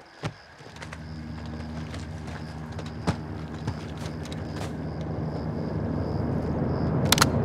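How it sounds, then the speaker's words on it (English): A helicopter approaches in Call of Duty Modern Warfare 2, a low rotor drone that grows steadily louder over several seconds amid scattered clicks and sharp game effects. "Got a heli incoming."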